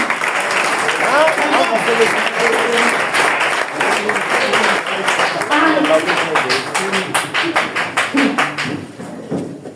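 A church congregation claps and cheers, with dense applause mixed with shouting voices that thins into distinct, rhythmic individual claps toward the end.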